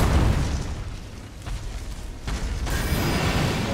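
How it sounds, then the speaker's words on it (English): In the Elden Ring video game, the player character spits fire during a boss fight against the Erdtree Avatar. A loud, sustained roaring whoosh of flame fills the clip, with a couple of sharper bursts in the middle. "I can spit that hot fire on you"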